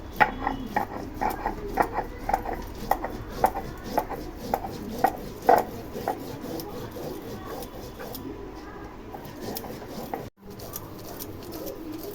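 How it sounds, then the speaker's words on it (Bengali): Rice being ground on a stone grinding slab, a rhythmic series of close scraping and knocking strokes that thin out toward the end, with birds faintly in the background. "চালটা পাটায় নিয়ে নিচ্ছি, এখন বেটে নিব"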